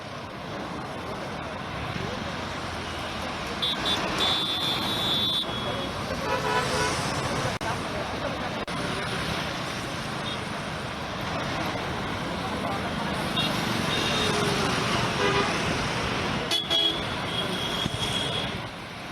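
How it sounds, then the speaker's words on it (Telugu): Road traffic moving around KBR Park in Hyderabad, a steady drone of engines with several short horn toots, some nearby, under intermittent talk. "ఇవాళ ఎలాంటి ట్రాఫిక్ ఇబ్బంది లేకుండా వెహికల్స్ మూవ్ అవుతున్నాయి"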